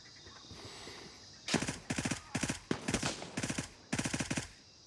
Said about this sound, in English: I got somebody shooting at me.